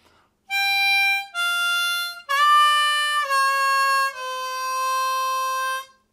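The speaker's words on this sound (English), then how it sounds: "6 blow, sorry," Harmonica played cross harp, stepping through a blues scale as a descending run of five sustained notes, each clear and close with no talk over them.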